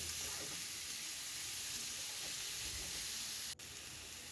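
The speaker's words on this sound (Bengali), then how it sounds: "দিয়ে সবজিগুলোকে আমি এখন ভাজা ভাজা করব।" Potato, onion and carrot frying in a pan, a steady close hiss and sizzle running throughout with a brief sharp click near the end.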